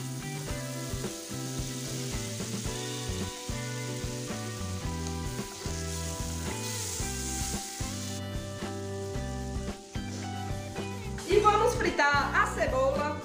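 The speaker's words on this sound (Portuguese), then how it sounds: "Voltemos à panela e fritamos a bisteca ao fogo médio." A pork chop fries in a pan over medium heat, a steady, close sizzle and crackle running under background music, with a louder burst of spattering near the end.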